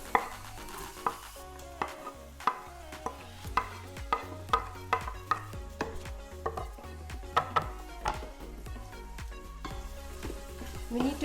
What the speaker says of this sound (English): We need to golden brown the onions and keep on stirring so it doesn't get stuck to the bottom of the instant pot.